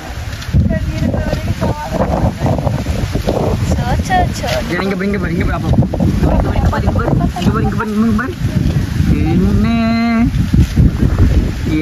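Strong outdoor wind buffets the microphone in a loud, continuous rush for the whole stretch, with voices talking intermittently over it.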